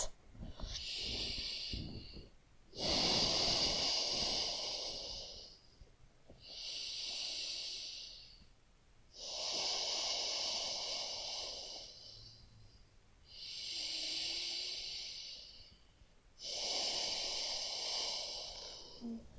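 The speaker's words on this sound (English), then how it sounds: "3 breaths." Slow, deep breathing during a pregnancy yoga session, held through a side bend: six broad, airy breaths of roughly two seconds each, evenly spaced with short pauses between them, close and fairly soft with no talking.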